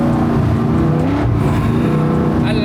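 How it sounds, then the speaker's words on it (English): A truck with baloney-cut exhaust pipes revs hard, a loud, rough, throaty engine roar that swells and drops close by, with a brief higher whine near the end. "I like the sound of them exhaust, them baloney cuts."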